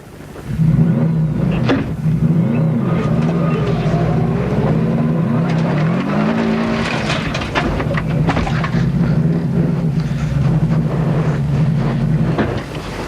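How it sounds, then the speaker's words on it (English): A rally car's costly gearbox nears failure during a 1995 New Zealand rally round in Auckland, a loud, steady in-car engine drone with grinding mechanical strain throughout and a brief dip near the end. "Now this is McAndrew's expensive gearbox about to quit."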